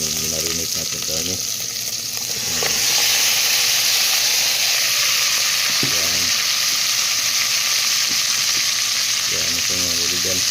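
Marinated meat hits a hot pan and bursts into loud, steady sizzling and hissing that holds for several seconds, with a voice speaking briefly before and during the frying.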